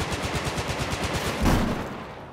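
Rapid automatic gunfire from the video game Battlefield 4, played in a competitive 8v8 match on the Flood Zone map: a fast, steady burst of shots, then a louder close boom near the end before the sound tails off.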